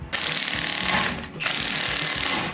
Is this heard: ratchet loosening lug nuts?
yes